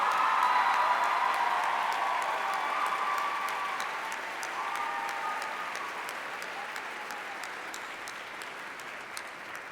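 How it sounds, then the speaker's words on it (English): Audience at a choir gala gives sustained, dense applause that slowly tapers off, loud and steady throughout with no talking. "let's have a round of applause for all the"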